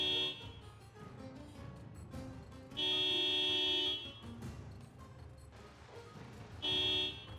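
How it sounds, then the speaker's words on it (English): Car horn blaring in a video game, two long sustained honks rising loud over busy game music and engine rumble, the second shorter near the end. "Maybe not the horn honking"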